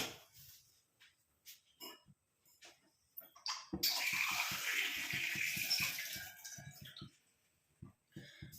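Water splashes steadily into an iron pan on a stove for a few seconds, loud and close, with scattered clinks and handling noises before and after.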